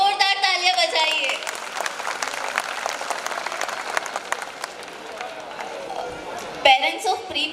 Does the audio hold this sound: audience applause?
yes